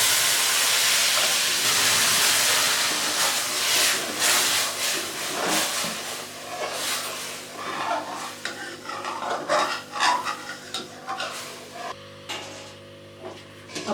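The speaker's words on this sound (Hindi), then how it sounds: "अब हम इसमें दूध डालते हैं।" Milk poured into roasted semolina in a hot pan for halwa, giving a loud hissing sizzle that gradually fades into softer bubbling and scraping.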